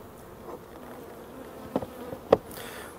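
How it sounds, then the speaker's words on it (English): Honeybees buzzing around a beehive, a soft low hum with a few louder close passes of single bees flying near, quiet outdoor background. "I think we can leave those bees now to work as nature intended"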